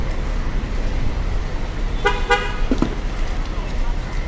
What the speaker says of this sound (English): a traffic jam here in this road